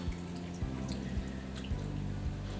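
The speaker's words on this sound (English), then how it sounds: "and then I'm going to add in some water." Water pours and trickles with light dripping into a blender holding sliced okra, a soft steady liquid flow heard close up without talk.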